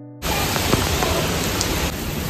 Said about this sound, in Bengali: প্রচণ্ড বেগে ঝড় আর তার সাথে এরকম বৃষ্টি শুরু হয়ে গিয়েছিল, আর প্রচণ্ড পরিমাণে বৃষ্টি পড়ছিল।